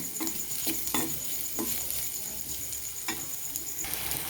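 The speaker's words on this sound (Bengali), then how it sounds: "এবারে আমি পেঁয়াজ আর কাঁচা লঙ্কাটাকে হালকাভাবে ভেজে নেব" Chopped onion and green chillies fry in hot oil, a steady close sizzle punctuated by several sharp scraping stirs of a spoon in the pan.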